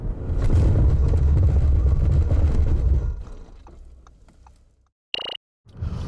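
A 2021 Audi S6 TDI brakes hard from speed in a stopping test, loud road and tire roar fading away over about three seconds to near silence, followed by a short sharp electronic tone.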